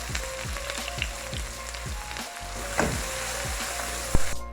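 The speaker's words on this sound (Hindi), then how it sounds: "ये इस ऑयल में चला जाएगा, और 2 मिनट के लिए इसको अच्छी तरह इसमें फ्राई कर लेना है" Steady oil sizzle with crackling as chopped onion fries for egg curry gravy, a continuous bright hiss with occasional stirring clicks and a sharper knock near the end.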